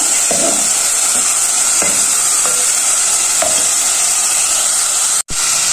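Minced meat keema sizzles and fries in ghee in a pan, a loud continuous hiss with occasional stirring scrapes and clinks, close up with no talking.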